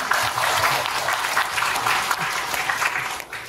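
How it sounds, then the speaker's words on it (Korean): An audience at a public history lecture in Incheon breaks into dense, steady clapping that fills the room for a few seconds and then tapers off at the end. "박수 한번 쳐보십시오"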